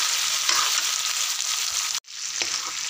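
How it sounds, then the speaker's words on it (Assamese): Potatoes and mutton fry in a pan with a steady, loud sizzle, briefly interrupted by a stir and then continuing close and strong. "আলু আৰু মাংস খুব ধুনীয়াকৈ ভাজ খাই গ'ল"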